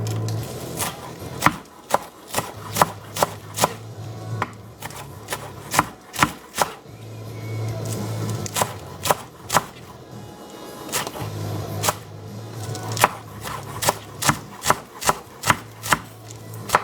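Green onions chopped with a knife on a cutting board, a sharp, close series of knocks in quick uneven bursts with short pauses between runs, with no talking.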